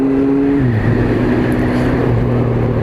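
A Honda FireBlade motorcycle accelerating, its engine note dropping in pitch at a gear change and then climbing steadily again, loud and close.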